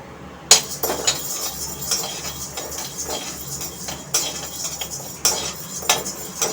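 Toor dal dry-roasts in a metal pan with repeated scraping and clinking spatula strokes, close and fairly loud, with light rattling of the dry lentils and no talk.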